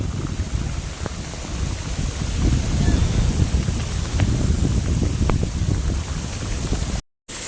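Heavy rain falls at the Taj Mahal, a loud, rough wash of water broken by occasional sharp drop impacts, with wind buffeting the microphone and a brief dropout near the end.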